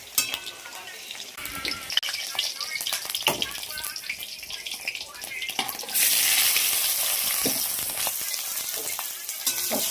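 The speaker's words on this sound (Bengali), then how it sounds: "এবার আলু ভাজছি, মটনে দেবো বড় বড় আলু" Large potato chunks frying in a pan, meant for a mutton curry. A busy crackling sizzle with stirring clatter grows suddenly louder and fuller partway through, then keeps hissing steadily.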